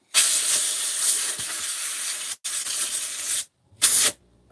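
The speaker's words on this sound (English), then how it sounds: "But I gotta blow out the air filter." Compressed air blasting out a chainsaw air filter, loud close hissing bursts: one long blast, a brief gap, another long blast, then a short final puff.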